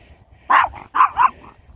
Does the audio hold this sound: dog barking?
yes